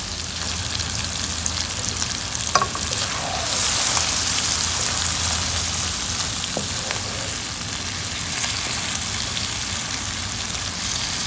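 Beans hit frying masala in a pan for a prawn bhuna, bringing a surge of crackling sizzle with a few sharp knocks, then a steady close hiss like rain, no voices.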